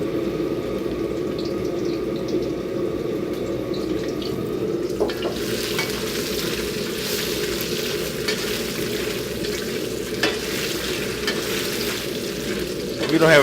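Tofu fries in hot oil in a pan, a steady loud sizzle and crackle that carries on throughout, close up, with occasional clinks of stirring and no talk.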